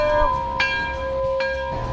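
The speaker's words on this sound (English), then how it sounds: "Somebody ring the bell!" Bell rings at a Ford truck dealership in Sanford, Florida, with a bright sustained tone struck again twice in quick succession, loud and close over a low background hum.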